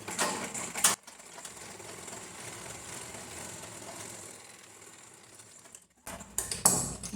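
A sewing machine stitches a quarter-inch seam on a lined blouse in a short steady mechanical whir, with louder clacks and handling noise at the start and finish.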